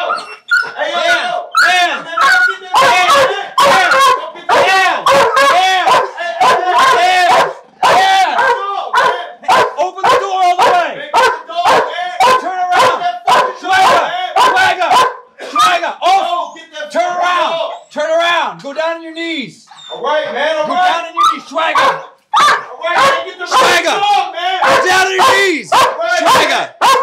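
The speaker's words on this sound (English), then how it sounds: "My dog's gonna bite you, bro." A dog barks repeatedly and loudly in rapid bursts during a tense police custody arrest, with agitated shouting voices talking over and between the barks throughout.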